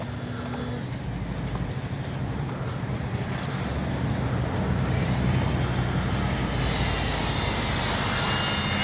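A Dynam DHC Beaver V2 RC plane on its maiden flight, its motor a steady drone mixed with wind rush on the microphone, holding at a constant level throughout.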